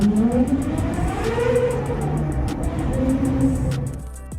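A supercar of nearly 1,000 horsepower revs loudly up through rising and falling engine tones over a few seconds, close and powerful, then cuts off abruptly.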